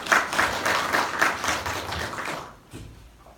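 At a Korean public debate on repealing the South Chungcheong human rights ordinance, an audience gives a round of close, brisk hand clapping that cuts off abruptly near the end, leaving a quiet room.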